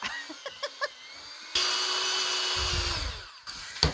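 An electric hand mixer beats a cream cheese and powdered sugar pecan pie dip, a few faint knocks first, then a steady whirring motor for about two seconds before it cuts off.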